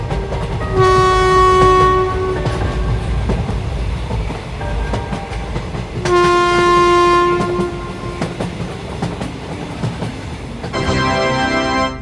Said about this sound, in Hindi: अच्छा हुआ ड्राइवर ने ट्रेन को स्टार्ट कर दिया